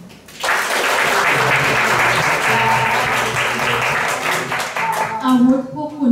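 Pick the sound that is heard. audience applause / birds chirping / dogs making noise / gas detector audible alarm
audience applause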